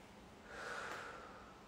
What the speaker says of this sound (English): we're gonna breathe in deep through the nose.